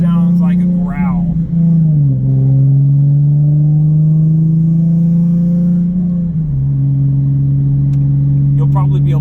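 Nissan 370Z fitted with a GReddy Evo GT exhaust, driving with a steady, deep droning growl that shifts pitch twice as revs change, loud and close throughout.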